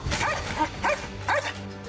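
A rescue service dog barks repeatedly in a series of sharp, close, loud barks, with a rough rhythm and no talk over them.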